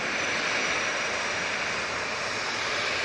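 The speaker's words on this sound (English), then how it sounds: "We've got Jet2 in the .com livery, 737. In towards us." A Jet2 Boeing 737 in .com livery approaching Manchester Airport, a steady, loud, broadband jet roar that holds constant throughout, with no voices.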